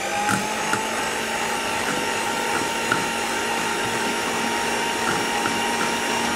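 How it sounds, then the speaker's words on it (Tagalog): Electric mixer beating cream cheese for the frosting of an ube macapuno cake, a steady close motor whine with faint rhythmic ticks and no talking. "imimix muna natin ang ating cream cheese."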